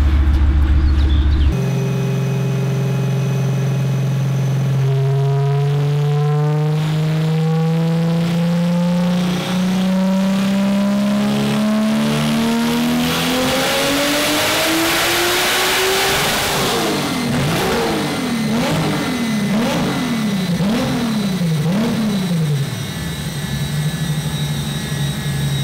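A VW Golf VR6 engine revs on a dynamometer during camshaft timing tests, climbing steadily in a long loud pull, then bouncing on and off the limiter before settling back to idle.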